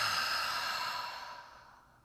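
One long, slow exhale during a guided breathing exercise, a soft close-up airy whoosh like a sigh that gradually fades out, with no talking.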